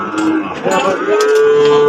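A Sahiwal bull lows at the Aftabganj cattle market in Nawabganj. The moo is loud, close and sustained, rising into a long steady tone, with faint market crowd noise behind it.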